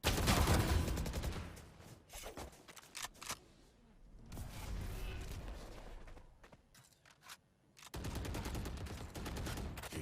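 Rapid gunfire bursts ring out in a professional Valorant tournament match, with sharp clustered volleys separated by short quieter gaps.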